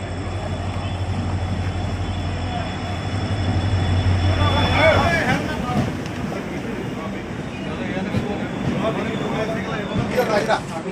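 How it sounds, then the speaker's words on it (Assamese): A train at a station on the way to Gangtok, a steady low rumble and mechanical hum that cuts out about halfway, followed by clattering and shuffling bustle as people board, with talk throughout. "তো ট্ৰেইন আহি গ'ল, এতিয়া আমি ছিটত গৈ বহি লওঁ।"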